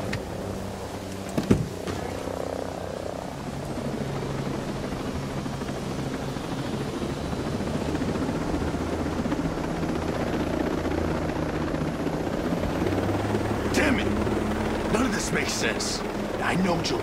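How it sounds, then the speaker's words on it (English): A helicopter approaching in the video game Ghost Recon Breakpoint, a steady rotor roar filling the scene at moderate level, with brief gunfire and other game sounds near the start and end. "Got a chopper coming in."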